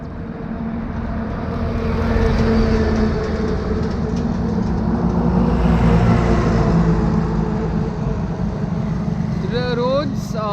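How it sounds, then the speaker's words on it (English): A truck passes on a road during a road trip in India. Its heavy, loud rumble swells to a peak midway, then fades slowly and stays steady near the microphone. "let the truck pass by"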